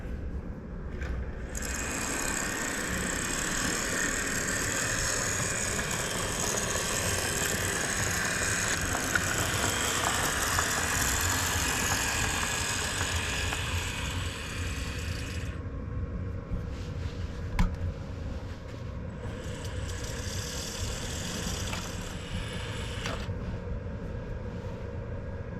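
Locomotive engines idle in a rail yard during switching work, a steady loud diesel rumble that runs throughout with a broad hiss above it and slight shifts partway through, no talk over it.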